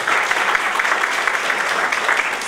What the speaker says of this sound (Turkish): Ben bir alkış istiyorum hocam